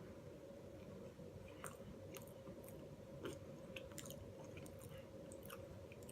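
Someone chewing a bite of pink lemonade Pop-Tart, with soft intermittent crunches and squishes, close up but faint over a steady low hum.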